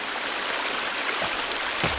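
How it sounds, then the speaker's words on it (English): A small waterfall in the video game The Forest pours as a constant, hissing rush of water, steady and fairly loud throughout, with a couple of faint low thumps near the end. "We've got a nice little waterfall."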